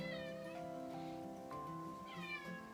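A cat meows a few times, drawn-out and wavering, close by with no talking.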